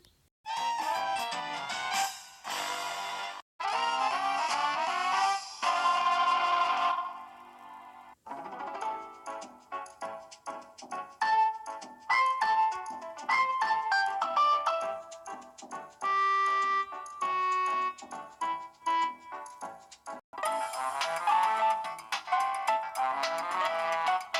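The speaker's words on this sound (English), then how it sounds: "Tropical Freeze takes an already good song and adds a little jazz to it" Bright, jazzy electronic music from Donkey Kong Country: Tropical Freeze, with bell-like synth melodies and bouncy chords, playing in phrases with brief pauses between sections.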